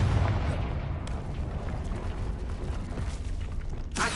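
A Confringo fire spell blows up in the game Hogwarts Legacy, a deep booming explosion followed by sustained rumbling and scattered crackles, ending with a second sharp burst.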